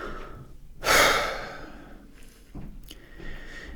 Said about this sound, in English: And then I breathe that in.